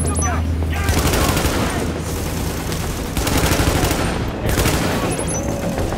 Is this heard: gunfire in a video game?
yes